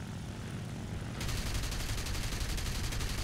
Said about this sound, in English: Opening fire at a rather long range, we take them out to achieve kill number 7